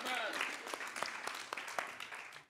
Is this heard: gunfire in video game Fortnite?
no